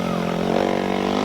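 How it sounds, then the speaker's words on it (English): A 500cc sidecar grasstrack racing engine holds a loud, steady drone close by at a 1998 British championship round, a sustained buzzing howl that carries on without a break. "Listen to that 500cc engine on tap there."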